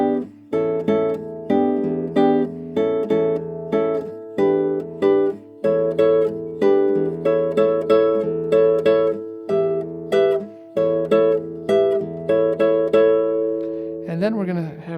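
Solo guitar plays the chord-melody introduction of a bossa nova tune, with steady rhythmic strummed and plucked chords repeating through the passage, played alone and close.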